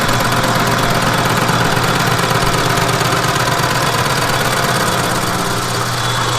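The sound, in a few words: machining light cuts in cast steel bearing retainer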